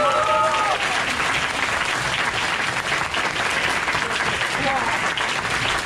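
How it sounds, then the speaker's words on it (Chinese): A conference audience applauding at a closing ceremony, dense sustained clapping throughout, with a few faint tones at the start. "我希望大家的掌声非常的大"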